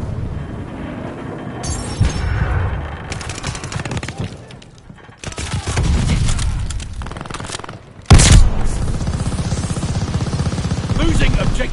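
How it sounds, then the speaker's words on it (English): Video game battle with grenade blasts and bursts of gunfire in uneven clusters, loud booms punctuating the firing, one especially heavy hit late on, with voices talking underneath. "Tossing grenades"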